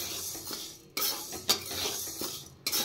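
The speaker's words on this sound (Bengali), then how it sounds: "বিউলির ডালগুলো প্রথমে আমি ভেজে নেব" Urad dal (biulir dal) being dry-fried in a pan, with a close, gritty scrape and rattle of lentils under a stirring utensil and a few sharp knocks against the pan.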